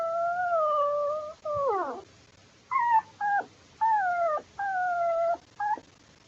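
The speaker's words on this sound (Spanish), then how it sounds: "mi perro está llorando" A dog howls in long, wavering tones and then whimpers in a run of shorter rising and falling cries, each separated by brief pauses, heard close and alone.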